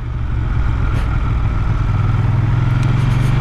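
A Ducati Monster 600 motorcycle engine pulls hard at full throttle, a loud, close, continuous roar with a steady low rumble and a faint mechanical clatter.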